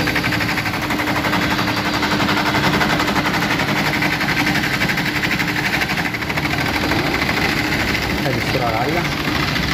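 A window air conditioner with a reversible cycle runs its fan motor at high speed, a steady loud whirring drone with a rattling mechanical hum that holds constant throughout, with no voices.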